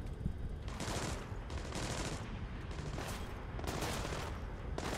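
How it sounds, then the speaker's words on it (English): Bursts of small arms gunfire in the Splinter Cell Blacklist video game crackle in rapid volleys, fairly distant and muffled, in several waves over a few seconds. "We're hearing small arms fire in the terminal"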